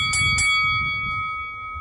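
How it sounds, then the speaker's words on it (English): A bell is struck twice in quick succession near the start, each strike bright and ringing, followed by a sustained high metallic tone that lingers and slowly fades over a low room murmur, ahead of a beer rating. "let's ring the bell."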